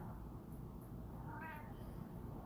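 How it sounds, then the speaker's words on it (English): An old Siamese cat gives a single faint, drawn-out meow in the middle of a quiet indoor room, with a steady low background hum. "I'll play the Siamese cat."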